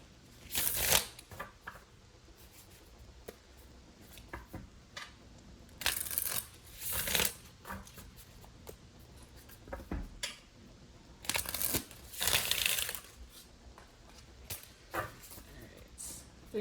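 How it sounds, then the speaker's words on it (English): Tarot cards being shuffled in several quick bursts of riffling and flicking, close and crisp, separated by quieter pauses with faint background noise. "Three more shuffles."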